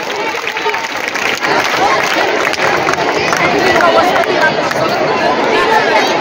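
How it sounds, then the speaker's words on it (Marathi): Audience applause and crowd noise fill a school annual gathering after a patriotic-song dance performance, a loud, steady wash of clapping with cheering and chatter mixed in. "चला या देशभक्तीपर गीतामध्ये सहभागी असलेल्या कलाकारांसाठी टाळी सुरू"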